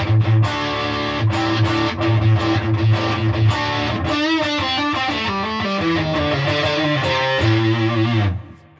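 An electric guitar plays through a Redbeard Effects Honey Badger octave fuzz pedal with the fuzz set mid-range, producing loud, thick, distorted chords and a run of single notes that ring out before fading at the end.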